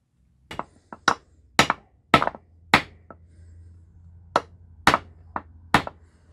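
A retempered, rehung hatchet chops dry Osage Orange wood in about a dozen sharp, close thwacks at an uneven pace, with quiet gaps between strikes.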